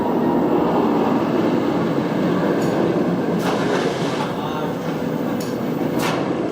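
Rumble of the Bizarro roller coaster train at Six Flags Great Adventure, a loud steady rolling drone with clattering wheels and a few brief squeals, close and continuous throughout.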